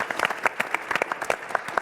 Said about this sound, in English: Please give yourselves a round of applause for all the work that you do.